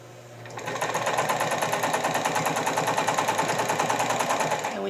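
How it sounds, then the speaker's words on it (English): A sewing machine stitches a dart in fabric, starting up after a brief pause and running at a steady fast rhythmic clatter close by for several seconds before stopping. "sew your dart like normal, but do not backstitch at the point"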